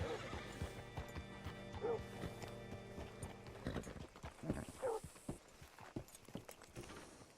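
A horse whinnies twice amid clopping hooves and clattering in Red Dead Redemption 2, with the ambience changing partway through.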